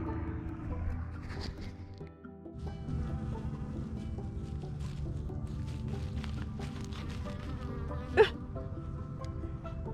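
A bee buzzing close by in a spring garden during planting of potager and potato beds, a steady droning hum that carries through the whole stretch with one sharp louder peak near the end.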